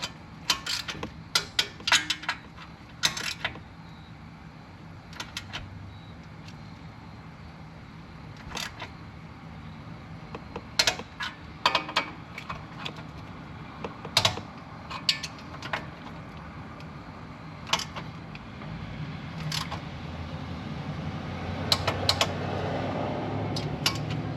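Ratchet snugging the exhaust bolts on a 2024 Yamaha YXZ 1000R during a GYTR DASA exhaust install, heard as scattered bursts of sharp clicks over a steady low background hum, close and fairly clear.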